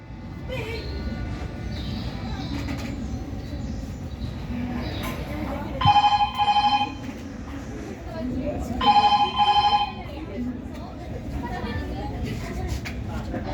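A telephone ringback tone on an outgoing call to a municipality office in a stage drama sounds as two short, loud ringing bursts a few seconds apart over a steady background hum.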